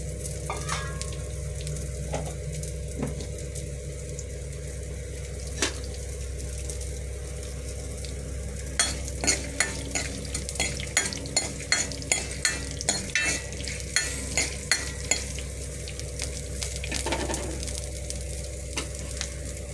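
Quiet sizzling of mustard seeds, fenugreek and dried red chilies in hot oil, with scattered pops and crackles picking up in the second half, a steady hum underneath.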